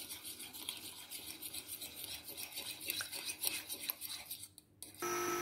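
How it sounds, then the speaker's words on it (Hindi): Oats get stirred into a mixture in a bowl, producing close scraping and rubbing strokes in a loose rhythm, with a short gap before a steadier rasp at the end. "थोड़े से ओट्स डाल लेते हैं इसमें। अब इनको अच्छे से मिक्स कर लेंगे।"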